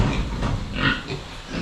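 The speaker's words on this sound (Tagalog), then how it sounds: "Sa ating mga inahing baboy," Sows in a farm pen give several rough grunts and oinks close by over a steady background rumble.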